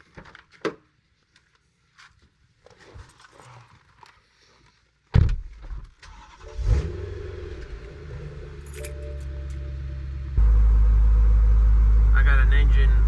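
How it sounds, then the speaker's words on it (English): BMW E93 M3 with a hot engine: faint clicks and door or key sounds, then a sharp starter crank and roar as the engine fires, settling into a loud steady idle with a voice speaking briefly. "Let's start the car."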